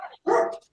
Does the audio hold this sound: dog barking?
yes